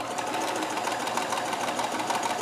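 Kenmore 158.1914 sewing machine running a chain stitch with a long stitch length: a fast, continuous mechanical whir and rattle, steady and close, with no talking.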